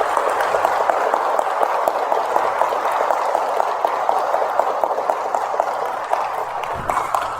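A church congregation at a lecture in a Catholic parish claps together in a loud, sustained burst of applause, with faint voices mixed in near the end.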